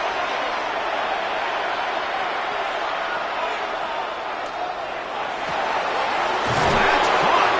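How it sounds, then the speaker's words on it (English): Simulated stadium crowd in Madden 26 for a Cleveland at Chicago game, a steady dense roar building slightly louder toward the end, with occasional thuds. "The crowd cranking it up another notch before 3rd and long"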